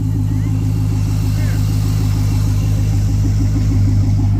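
The engine of a wrecked Corvette runs at a steady, loud idle close by, with a constant low rumble and no pauses, and faint voices sound underneath.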